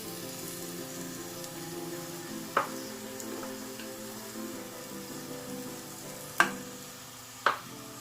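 Onions fry gently in a pan with a soft, steady sizzle, close and quiet, broken by three sharp clinks of a utensil against the pan.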